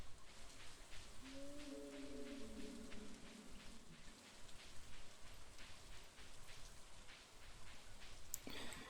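Steady rain in the video game Stardew Valley patters continuously on a surface, soft and even, with a brief tonal chime drifting through partway.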